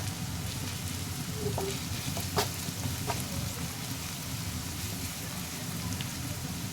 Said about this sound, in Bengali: রসুনটাকেও ভালো করে ভেজে নিতে হবে।